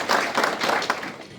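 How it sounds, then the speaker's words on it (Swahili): Hands clapping at a church gathering, a short burst of scattered applause from a group of people, moderately loud and over in about a second. "pigieni makofi mazuri"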